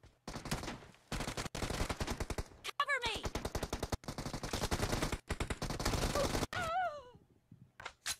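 Sustained automatic gunfire in a PUBG Mobile team deathmatch, long rapid bursts of close, loud shots broken by brief pauses, with a voice groaning and speaking between them.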